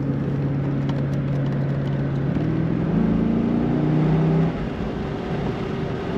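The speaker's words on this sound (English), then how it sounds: "Of course, a Corvette is going to corner very nicely." A 1999 Chevrolet Corvette convertible driving on the road, its engine giving a steady low drone that rises in pitch partway through as it accelerates, then eases back, with no talk.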